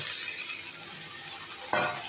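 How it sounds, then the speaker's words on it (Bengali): Steady sizzling of pointed gourd, potato and papaya frying in a pan, with a brief scrape of stirring near the end. "ভালোভাবে ভেজে নিচ্ছি পটলটা পটল ভাজা হয়ে গেছে"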